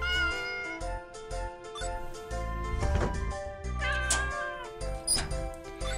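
Cartoonish cat meows from the Kitty App mobile game repeat several times in quick succession, bright and close, mixed with light chimes and jingling game effects.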